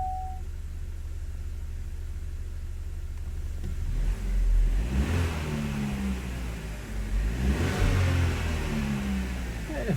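A 2013 Chevy Sonic/Cruze engine with the check engine light on runs with a low uneven rumble, swelling twice into louder revs around the middle and end, close by and without talk.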